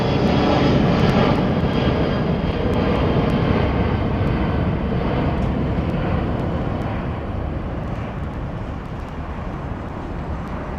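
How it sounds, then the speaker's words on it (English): China Southern jet airliners at Heathrow Airport, giving a sustained, fairly loud engine roar that fades gradually over the final seconds with no voices present. "Look at that, 2 China Southern jets."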